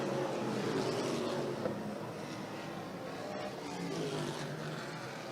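NASCAR Pinty's Series stock cars race at Autodrome Saint-Eustache, their engines a sustained loud roar heard from trackside with rising and falling tones as cars pass and accelerate, continuous throughout.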